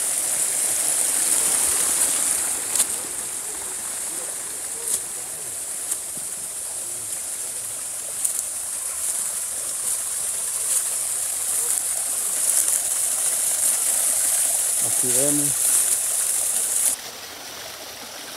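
Water piped from an underground spring runs steadily in the Picacho forest reserve in Honduras, a continuous hissing flow close by, while someone speaks briefly over it.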